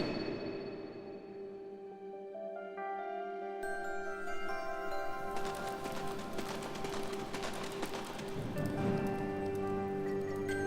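Rain falls steadily in the side-scrolling action game Dust: An Elysian Tail, a soft continuous patter layered with game music and ambience throughout.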